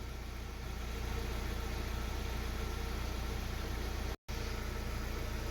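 A 2018 Hyundai Solaris engine idling after an alarm autostart, a steady low, even hum with a constant rumble and one very brief dropout near the end.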